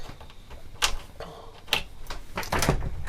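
A sliding door pulled across inside a 2014 Burstner Elegance i821G motorhome to close off the rear: a few sharp clacks and rattles close by, spaced out over about three seconds, with no talking.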